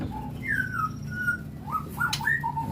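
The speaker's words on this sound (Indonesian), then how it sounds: "Ini murai batu yang lagi masa penjodohan ya." A white-rumped shama in its pairing season sings a varied series of clear whistled phrases, rising and falling, fairly close over a steady low background hum.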